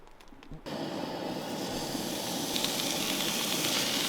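Outdoor campfire burning in the wild, a steady soft roaring hiss that swells in after a short quiet opening and holds near and even to the end.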